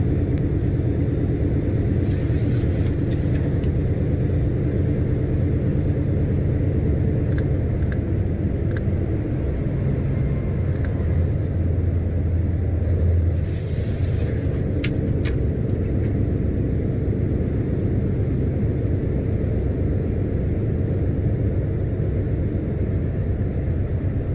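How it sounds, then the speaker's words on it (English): Heavy vehicle climbing a hill in direct drive at around 70 km/h, a steady low engine drone and road rumble continuing evenly for over twenty seconds, with faint brief hisses and clicks near the middle and no speech. "After, we continue at the direct drive, in around 70 km/h for the rest of the hill."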